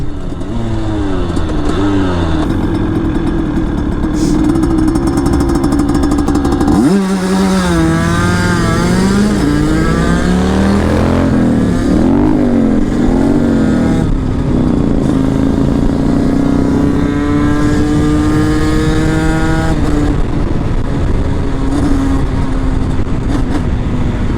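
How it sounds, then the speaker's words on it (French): A car engine races close by, loud and continuous, with repeated rising and falling revs as it accelerates and shifts, sharing the road with a motorcycle for most of the stretch. "J'ai fait la course avec une voiture"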